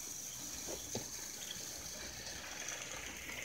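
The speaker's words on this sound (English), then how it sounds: "Another train's pouring water." A toy train pours water in a steady, faint stream, running without a break the whole time.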